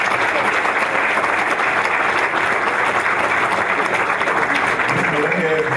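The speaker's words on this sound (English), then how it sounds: "Give him a round of applause." Sustained, loud applause from an audience at a school board of education meeting welcoming a new middle school assistant principal, a dense wash of clapping that holds steady throughout with a faint crowd murmur.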